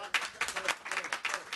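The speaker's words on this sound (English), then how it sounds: "You're going to get me in trouble if you clap." A small audience at a state assembly health subcommittee hearing in a meeting room claps in a brief, faint burst of quick, uneven hand claps.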